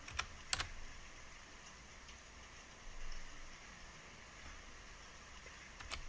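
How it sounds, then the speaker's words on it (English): Quiet, fast tapping on a computer keyboard, a few crisp clicks at the start and end with faint steady typing and background hum in between, no voices. "I love typing stuff all the time."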